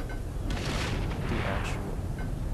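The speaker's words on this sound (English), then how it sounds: "Why are they throwing AP grenades onto me?" An AP grenade explodes in the Heroes & Generals video game, heard as a dense rumbling blast with a few sharp bursts over a continuous loud background.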